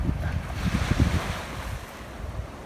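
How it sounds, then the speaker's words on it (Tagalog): Strong wind buffets the microphone in heavy low gusts at Duder Regional Park beach, New Zealand, with surf rushing in the background, loudest early and easing slightly toward the end. "sobrang lakas ng hangin"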